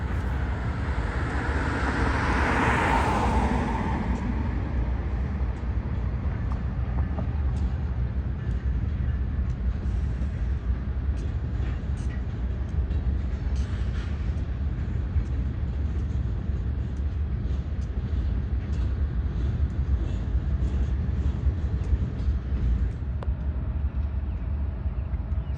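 BNSF freight locomotives, including a GE Evolution-series unit, rumble through the Galesburg rail yard under an overpass, a steady low-pitched engine drone and rail noise that stays loud throughout with no talk.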